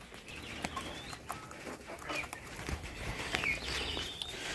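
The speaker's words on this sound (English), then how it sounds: "This is the cage for the quail birds." Caged quail chirp and cluck softly in a cluttered, moderately quiet urban farm setting, with scattered faint calls and rustling throughout.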